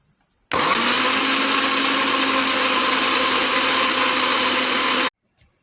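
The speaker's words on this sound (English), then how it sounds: "And then blend the two together very smoothly." A blender runs steadily at full power for about four and a half seconds, chopping banana and cucumber into a smooth blend, starting and stopping abruptly with no talk.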